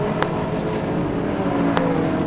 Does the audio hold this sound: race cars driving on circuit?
yes